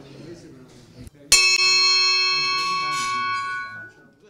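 A single strike of a Kiwanis club bell, sweet yet strong, rings out clearly and hums on for about three seconds as it slowly fades. Brief quiet talk comes just before the strike.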